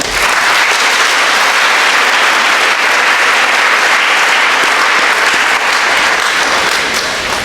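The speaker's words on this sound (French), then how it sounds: "je vous demande d'applaudir les parents." Loud, dense applause from a church congregation honoring parents during a ceremony for religious sisters' vows, a steady roar of clapping that fills the whole stretch without letup.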